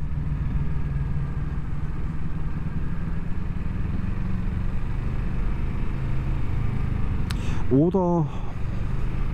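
A motorcycle runs steadily with a low engine hum near a path leading up to a castle, while a rider speaks briefly toward the end.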